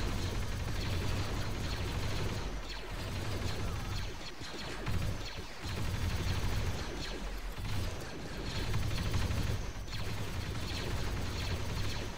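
Clone troopers fire their weapons in the war game Men of War Assault Squad 2, a dense, continuous clatter of gunfire and mechanical rattling that fills the whole stretch with only brief dips.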